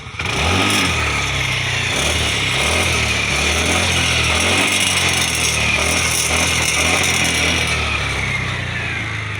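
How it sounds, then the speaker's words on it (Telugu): Exhaust note of a TVS Jupiter 125 BS7 scooter, a steady, loud engine drone with a low throbbing tone that holds throughout, heard close up and alone without talk. "ఒకసారి ఎగ్జాస్ట్ నోట్ వినిపిస్తా చూడండి మీకు"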